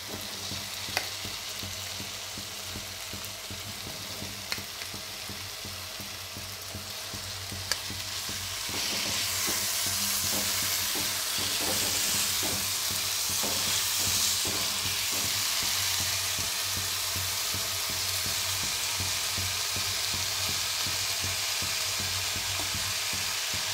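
Boiled, soaked banana flower goes into a pan for a traditional Bengali coconut mocha ghonto, bringing a steady frying sizzle that grows louder midway, with occasional stirring clinks and no voices.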